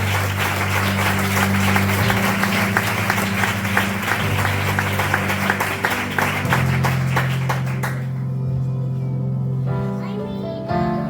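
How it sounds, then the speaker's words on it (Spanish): A congregation claps in church, a steady run of rhythmic applause over sustained low organ or keyboard chords that shift every couple of seconds, before the clapping drops away and the music carries on alone near the end. "Dale una fuerte aplauso."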